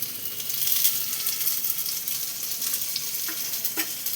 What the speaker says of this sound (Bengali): কচুটাকে আমি একটু ভেজে নেব, হালকা করে একটু ভেজে নেব